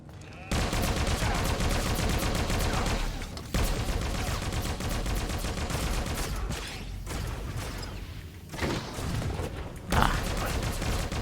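Rapid turret gunfire in Star Wars: The Old Republic, a trooper storyline on Hoth, as a dense, loud barrage of repeated shots that runs almost without pause, with brief gaps near three and eight seconds.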